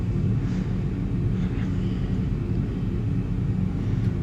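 Steady low engine drone of a simulated airliner in a flight simulator during a gentle banking turn on approach near Skiathos and Heraklion, a continuous even rumble throughout with no talk.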